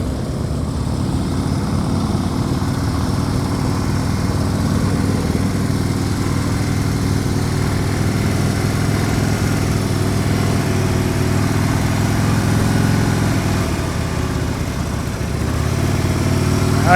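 A motorcycle idles and creeps along at low speed during an advanced slow-speed riding practice session in Florida, a steady, fairly loud engine drone that holds even throughout with no talk over it.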